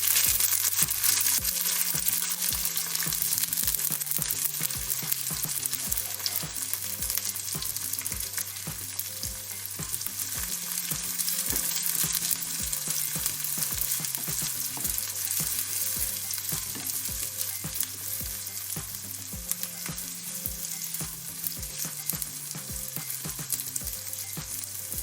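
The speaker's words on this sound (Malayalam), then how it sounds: "ഇനി നമുക്ക് നമ്മൾ അരിഞ്ഞെടുത്ത ഇഞ്ചി, പച്ചമുളക്, ചെറിയ ഉള്ളി അത് ഇട്ട് കൊടുക്കാം." Chopped ginger, green chili and shallots fry in hot oil for a green gram curry, a steady bright sizzle running throughout with music playing underneath.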